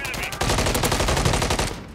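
Rapid automatic gunfire in a Call of Duty match, a dense, loud burst of repeated shots lasting about two seconds.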